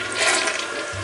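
A dual-flush toilet in a hotel bathroom flushes with a loud, close rush of swirling water that fills the short moment.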